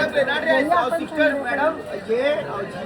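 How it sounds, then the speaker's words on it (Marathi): Busy market in Amritsar full of people, dense chatter with several nearby voices rising and falling over a continuous crowd murmur. "मार्केट आहे मित्रांनो, हे पूर्ण गर्दी."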